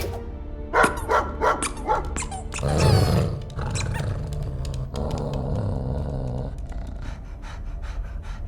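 Cosmo, the space dog in the Guardians of the Galaxy video game, barks several times in short sharp bursts, followed by a growling, roaring stretch over a steady game backdrop.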